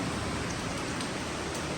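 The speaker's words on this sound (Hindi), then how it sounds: "अचानक से बहुत तेज़ बारिश शुरू हो गई" Heavy sudden rain pouring outside a home balcony, a dense, loud, steady hiss with no break and no voices.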